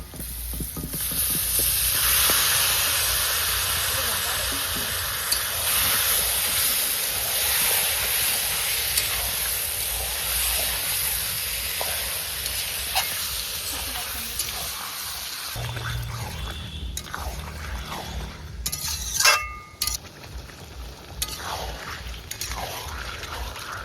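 Marinated chicken hitting a pan of browned onions and cumin seeds, giving a loud, continuous close hiss and sizzle that eases after about fifteen seconds, followed by a few clinks of a utensil.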